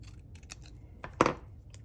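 Scissors trim a piece of card paper with a few soft, close snips, and one sharper cut lands near the end of the short, quiet moment.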